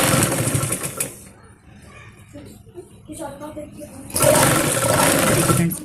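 A sewing machine stitching a child's palazzo top and shrug runs in loud steady bursts at the start and end, with a quieter stretch of close talking in between.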